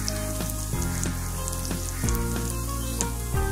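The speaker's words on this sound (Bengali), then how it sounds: "এবারে আমি মশলাটাকে ভালোভাবে কষিয়ে নেব" Spices sizzle and fry in hot oil with beef brain in a pan, a steady crackling hiss broken by several stirring scrapes.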